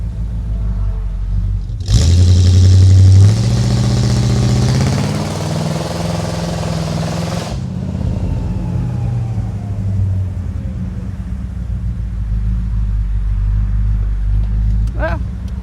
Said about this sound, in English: I mean, it's kind of a burnout.